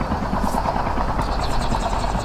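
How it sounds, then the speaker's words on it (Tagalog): Helicopter in the Call of Duty Mobile battle royale game, a steady low rotor and engine drone with dense noise filling the clip, loud and continuous throughout. "Helicopter, helicopter."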